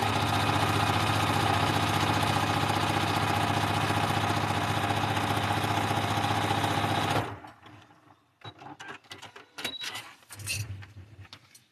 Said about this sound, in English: And we're sewing that seam.